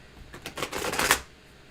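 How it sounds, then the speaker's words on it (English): A deck of cards riffled and shuffled once, a quick rapid flurry of papery flicks over about a second, close and clear with no talk. "I forget if I'm supposed to shuffle first."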